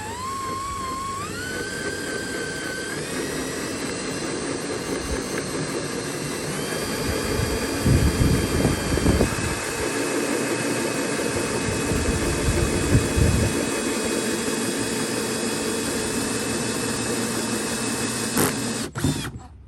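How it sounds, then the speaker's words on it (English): A power drill bores a hole through a metal bar for a racecar build, a steady whining motor whose pitch rises and shifts, with louder grinding bursts mid-way as the bit bites, heard close and alone. "You're going to want to drill the hole with the angle of the bar coming out"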